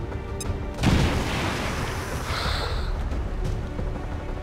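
An explosion against UFO walls in XCOM 2 booms loudly near the start, followed by a rumbling, hissing decay that lingers for several seconds.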